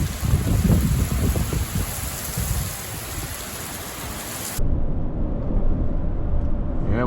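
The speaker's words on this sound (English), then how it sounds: "Yeah, we got an inch of rain." Steady, dense rain pours down throughout, loud and close with a constant hiss that cuts off sharply partway while the low rumble continues.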